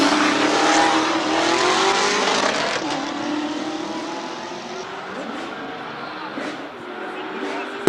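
BMW Z4 M race car accelerating hard at a Cape Town hill-climb event, a loud engine note climbing through the gears and fading into the distance, with an announcer talking over it.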